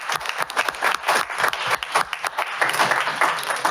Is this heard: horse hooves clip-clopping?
no